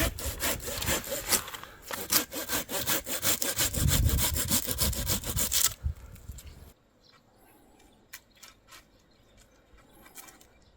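A hand saw cuts through pine branches during tree pruning, with loud, rapid rasping strokes for about six seconds, then the sawing stops and only faint scattered sounds follow.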